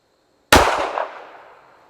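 One loud, close gunshot from a SIG Emperor Scorpion Carry pistol at a range cracks out of silence, then its echo fades over about a second.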